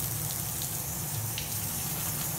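Water gushes steadily from a tap into a cold water bath for freshly made deer sticks, a loud, continuous rush with no voices.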